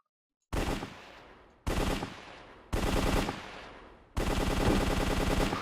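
Four loud bursts of rapid automatic gunfire from a gun in a Minecraft CS:GO mod, each a dense volley cut off sharply, separated by short gaps, close and with no talk over it.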